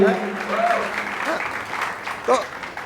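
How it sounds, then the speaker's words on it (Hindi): Audience clapping at a Hindi comedy poetry gathering, a broad wash of applause over about three seconds with a voice talking over it. "अगर आनंद आ रहा है तो तालियां एक बार खुल के बजाइए भाई"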